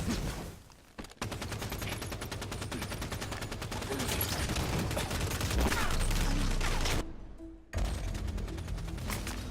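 Sustained, loud bursts of rapid gunfire and explosions from the Halo 5 Guardians multiplayer beta fill the clip, with a brief dip near the start and a short gap near the end.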